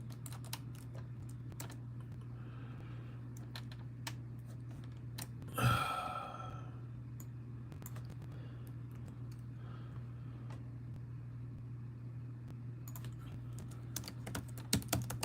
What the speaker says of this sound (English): Having a hard time typing today.